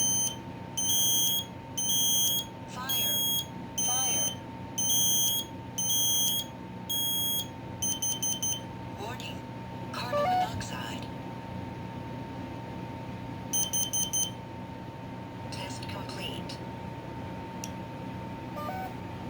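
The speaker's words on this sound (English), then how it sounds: "Those are really satisfying alarms, by the way" Several household smoke alarms from a collection sound during a test: loud, rhythmic bursts of piercing electronic beeps repeating in groups, overlapping chirps from different units, and a steady tone beneath, with no talking.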